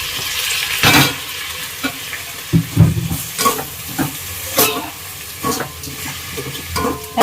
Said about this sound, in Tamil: இப்போ தக்காளியை போட்டு நல்லா வதக்கிக்கலாம்